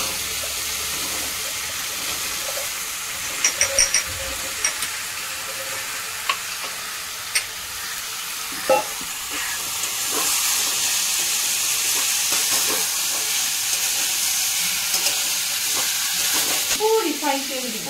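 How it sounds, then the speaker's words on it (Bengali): Kabuli chickpeas hit a pan of hot oil while ghugni is being made. Scattered clinks and stirring come first, then a steady sizzle rises and holds, with a short burst of speech-like sound near the end. "এবার আমি চাপড়ি ছোলাগুলো ছেড়ে দিলাম।"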